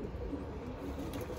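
A blue-capped pigeon coos softly, a low murmuring call repeating over steady outdoor background noise.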